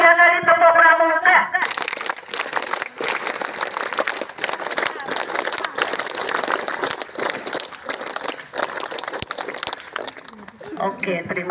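Pramuka scouts at a school scout-day ceremony give their troop applause, a dense, loud burst of many hands clapping that lasts about nine seconds, with a voice speaking briefly just before and again as it ends.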